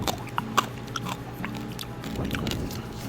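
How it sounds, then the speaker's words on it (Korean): Someone chews passion fruit seeds up close, producing soft wet crunches and small crisp pops at an irregular pace. The sound is quiet and there is no talk. "씹어 드셔도 되는 게 아니라 씹어 드셔야 돼요"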